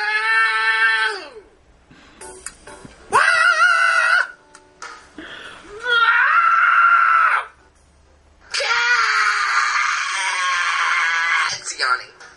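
A cat makes four drawn-out, wailing yawning vocalizations close by, each rising and then falling in pitch, separated by short pauses.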